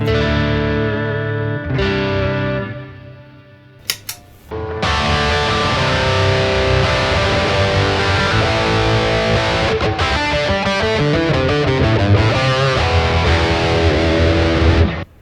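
An electric guitar plays through a Klon-clone overdrive pedal, the first of two clones compared, with the gain raised: a few clean-ish chords ring out, then a sustained, driven, gritty strummed passage continues loud and close, with no talking.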